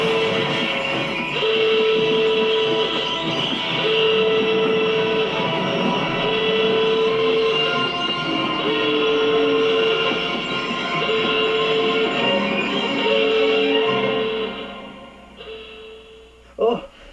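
A freight train rolls past with a heavy continuous rumble and clatter, repeated horn-like tones sounding at intervals, fading out near the end.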